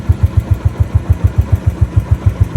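A motorcycle engine on a rough off-road hill climb in Leepa Valley thumps in a steady, rapid low pulse, loud and close, with no speech over it.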